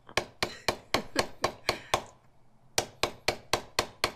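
A metal leather stamping tool is struck again and again on leather, sharp close taps in quick even bursts: eight hits, a brief pause, then six more at the same brisk pace.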